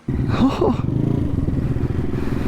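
A Honda Navi motorcycle fitted with a big bore engine idles and revs close by. It gives a steady, loud, throbbing run with a brief rising rev near the start and no talk over it.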